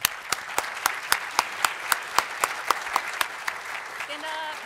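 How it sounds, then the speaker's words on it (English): Conference audience gives a round of applause for five innovation challenge finalists, a steady patter of clapping with distinct, evenly spaced sharp claps standing out near the microphone, ending as a voice begins. "Big round of applause for them."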